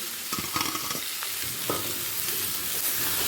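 Fried potatoes and jackfruit being sautéed with spice paste in a pan, a continuous close sizzle broken by several scraping strokes of a spatula, with no voices.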